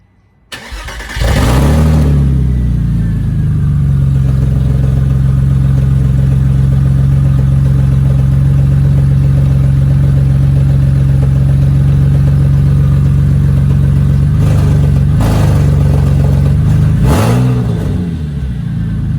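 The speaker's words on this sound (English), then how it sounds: "Starting up with straight pipe." A Porsche 986 Boxster on a straight pipe exhaust cranks and fires, then settles into a loud, steady idle that runs throughout. Two sharp throttle blips come near the end, with no talking.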